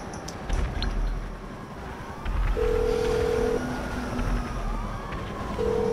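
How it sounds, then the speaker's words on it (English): A phone rings in GTA V Online gameplay: two steady electronic ring tones about three seconds apart, heard over a low rumble of in-game traffic and engine noise. "I know it's ringing by now"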